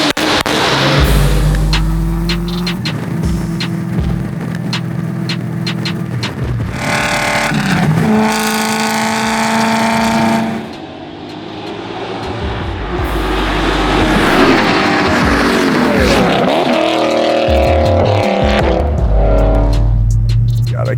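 Supercharged V8-swapped BMW E30 on a drive, its loud engine droning and revving with rising and falling pitch under acceleration and gear changes, with brief chatter from the occupants faint beneath the roar.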